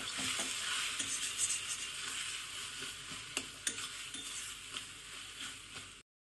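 Egg being stirred into a frying pan dish of brinjal, with steady sizzling and a scraping stir running throughout, fairly close and continuous.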